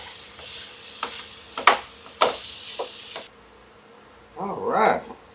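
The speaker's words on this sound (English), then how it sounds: "We're going to throw that in with the onions. And get this all browned up." 85% lean ground beef browns with onions in a pan, a steady sizzle with a few scraping stirs, then the frying drops away and a voice speaks briefly near the end.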